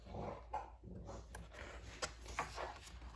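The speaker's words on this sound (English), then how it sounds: "if you hear a weird noise, that's just my puppy playing with the rug behind me" A puppy plays with a rug indoors, giving soft scuffling thumps and faint growly, whimpering noises, quiet and somewhat distant with no talk over it.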